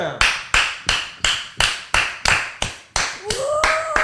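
A small group claps in a steady rhythmic beat, about ten loud claps, then the clapping blurs into scattered applause as a voice begins.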